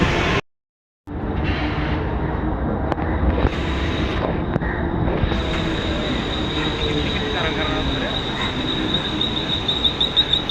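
Train arriving at Mumbai's Chhatrapati Shivaji Maharaj Terminus railway station, a loud continuous rumble of railcars with a sustained high wheel squeal, briefly cut by a gap of silence near the start, then rolling steadily with clanks.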